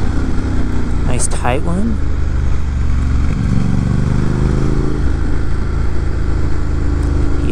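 A motorcycle braking into a downhill turn, its steady engine drone close and continuous throughout, with a rider speaking briefly over it.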